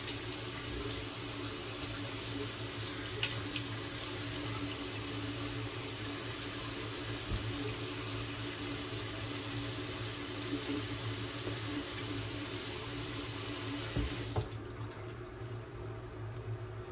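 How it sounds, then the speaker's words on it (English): Water runs steadily from a tap into a sink for about fourteen seconds while someone works shaving cream, then cuts off abruptly, leaving a quiet room. "I'm gonna attempt to add some more water here because it feels thick."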